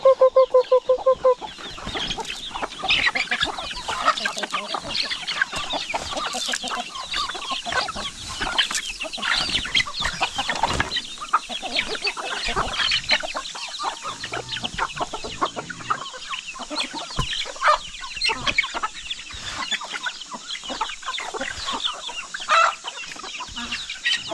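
Hen with a large brood of around a dozen chicks on a farm, soft clucking and dense high peeping from the chicks filling the scene continuously, close and busy with no talk.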